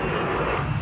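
A jet aircraft roars overhead in a combat video game, a loud, steady, broad engine rumble that fills a brief moment with no break.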